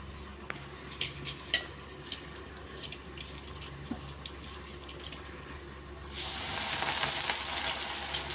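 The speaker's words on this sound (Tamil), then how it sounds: "இப்போ இதே மாதிரி எல்லா போர்ஷனுமே கொஞ்சம் கொஞ்சமாக போட்டு நல்லா ஃப்ரை பண்ணிக்கோங்க." Palak spinach fries in a pan with soft sizzling and several light clinks and taps of utensils. A louder, bright sizzle then rises abruptly and holds for the last couple of seconds.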